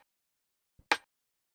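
A single short, bright snare-like hit with a crisp noisy burst, preceded by a soft low thump, then silence.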